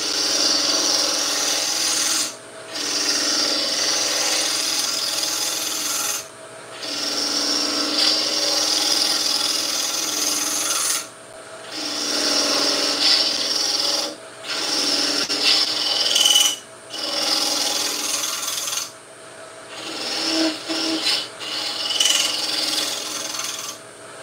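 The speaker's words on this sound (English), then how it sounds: "This is my 1/8 gouge. I'm just going to shape up the bottom." A 1/8 gouge shaves and rasps across a wooden piece while shaping its bottom, in steady scraping strokes broken by short pauses, close and fairly loud with no talk.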